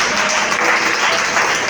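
Dense, continuous applause from a church congregation during a worship service, loud and close, with no talk over it.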